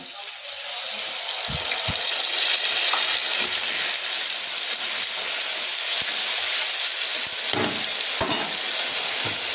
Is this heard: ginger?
yes